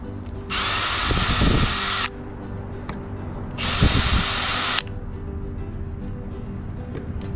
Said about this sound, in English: I'll be using a drill pilot hole as well.